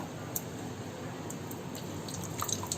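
Water dripping and squishing out as soaked fried lentil vadas are pressed and lifted from a bowl, with soft irregular drips over a steady low background, close and fairly quiet.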